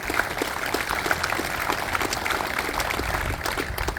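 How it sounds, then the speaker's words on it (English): Applause from an audience at a patriotic tour kickoff ceremony, steady and dense clapping that holds at an even level for several seconds. "Let's give them a round of applause."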